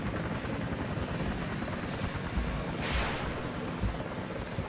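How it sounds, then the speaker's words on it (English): Steady, loud rotor thump and engine roar of an Mi-8 helicopter in the video game Battlefield Vietnam fill the whole stretch, with a brief whooshing swell near the middle. "We're an Mi-8 helicopter."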